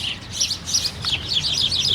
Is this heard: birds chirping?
yes